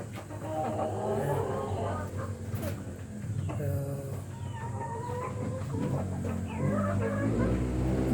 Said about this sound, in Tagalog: Yan yung mga hens natin na nangingitlog.